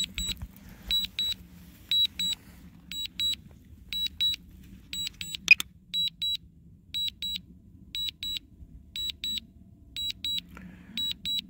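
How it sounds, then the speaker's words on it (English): A DJI Mavic Air drone returning to home emits regular paired high electronic beeps about twice a second, steady and fairly loud over a faint low background hum, with no talk. "Does have that pesky beeping noise."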